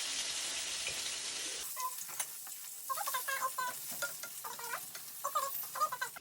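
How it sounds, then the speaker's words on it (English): Oil sizzles and crackles steadily as chicken fries, with scattered pops and some stirring scrapes. "this has been frying for some time and it's properly done now"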